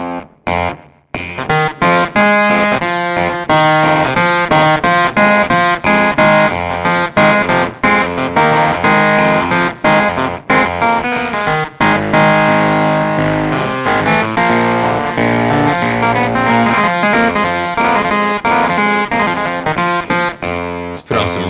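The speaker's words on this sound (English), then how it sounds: "Yeah, you've got a nice delay and a distortion." A Sampletekk keyboard plugin plays a busy run of notes drenched in echoing delay and gritty distortion, loud and continuous for the whole stretch.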